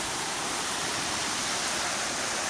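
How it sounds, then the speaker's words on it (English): Hot-water waterfall at Kerosene Creek pouring steadily, a dense continuous rushing roar close by with no voices over it. "There's a bit of the waterfall with nobody in there."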